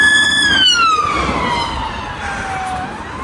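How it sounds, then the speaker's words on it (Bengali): A London police siren wails loudly and steadily, its pitch sliding downward as the vehicle passes, over a low rumble of traffic. "পুলিশের গাড়ি"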